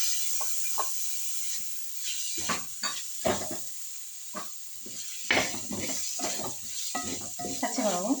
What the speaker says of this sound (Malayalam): പച്ചമുളകും അതിൽ കിടന്ന് വഴവരാൻ.